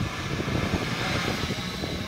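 A DJI F450 quadcopter carrying a GoPro gimbal flies nearby, its propellers giving a loud, steady, buzzing whir with no break.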